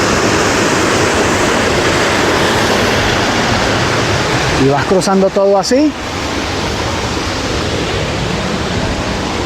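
Water at the Ouzoud waterfalls in Morocco rushes in a loud, steady broadband roar throughout, with someone briefly speaking over it midway.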